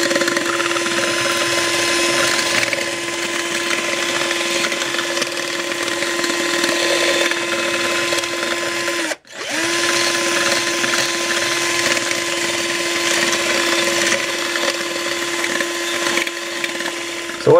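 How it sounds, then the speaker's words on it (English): A power drill grinds continuously against the metal edges of a can, a steady whining buzz, briefly stopping midway before starting up again at the same pitch. "I'm just going to take my drill and sorry I bumped the camera there"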